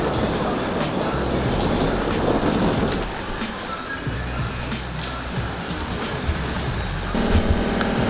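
Steady rain falls during a tornado warning, a dense, continuous patter and hiss with a low rumble underneath that keeps a constant level throughout.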